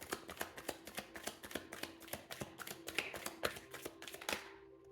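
A tarot card deck is shuffled close by in quick, rhythmic riffles and taps that repeat for several seconds before stopping abruptly.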